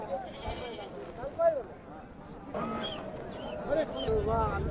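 Goats bleat repeatedly at a village market, several short calls scattered among nearby talk and general market bustle.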